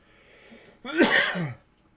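A single cough breaks out abruptly after a quiet moment, a short burst of harsh, raspy noise that fades out within about half a second.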